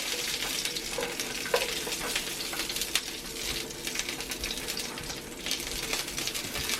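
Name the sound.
brats browning in bacon grease in a cast iron pan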